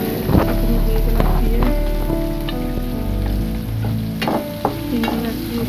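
Prawns frying in oil with onion for a Bengali kakrol and prawn dish, a loud close sizzle and crackle with scraping stirs of a spatula, and a brief faint voice.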